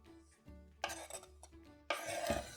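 Sliced food being moved onto a plate while preparing New Year holiday dishes: a few soft scrapes and clinks of utensil against dish, close and quiet, with brief pauses between.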